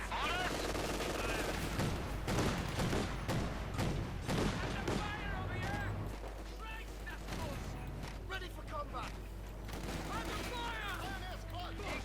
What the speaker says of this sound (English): Sappers there being suppressed by the MD-42. Shot after shot flying at them.